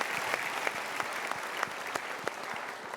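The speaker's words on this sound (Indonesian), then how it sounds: "Kita berikan tepuk tangan." A studio audience at an Indonesian motivational talk show claps steadily, with sustained applause and scattered sharper individual claps standing out across the whole stretch.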